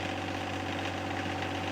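A John Deere 2025R compact tractor idles with a steady, low mechanical drone and a faint knocking pulse, close and constant throughout with no talking.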